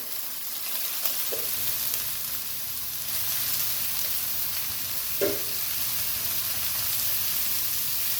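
Peeled, deveined jumbo shrimp sauté in a hot pan with king mushrooms, giving a steady close sizzle throughout. A couple of brief scraping stir sounds break through the hiss.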